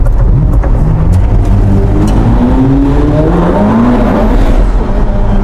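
Ferrari SF90 Stradale hybrid supercar pulling away hard, its engine note climbing loud and close in rising sweeps with no voices over it.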